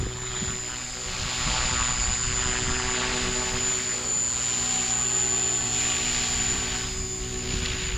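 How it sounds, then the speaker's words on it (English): A 300X RC helicopter hovers and flies in medium flight mode at about 70% throttle, giving a continuous loud rotor whine with a steady high-pitched motor tone that swells slightly as it maneuvers. "the helicopter is pretty docile still, but able to do the 3D"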